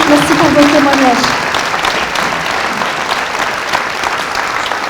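A conference audience at a law faculty event applauds steadily, a dense wash of clapping that stays strong and even throughout, with a voice briefly audible at the start.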